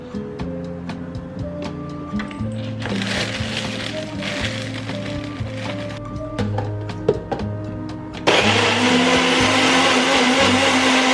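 A kitchen blender whirs steadily while making a smoothie, its motor drone loud and continuous with rattling as contents churn, rising to a harsher, higher-pitched roar near the end.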